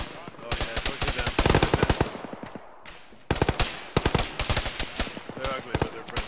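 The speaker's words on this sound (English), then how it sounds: "Someone's shooting at us." Gunfire in a military video game (ShackTac) comes as loud, rapid automatic bursts with short pauses between volleys, close and sharp, with a voice briefly talking under the shooting.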